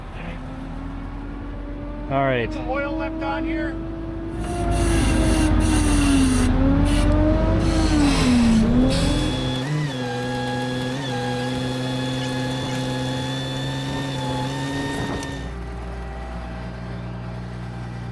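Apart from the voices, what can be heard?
tree spade engine started and revved up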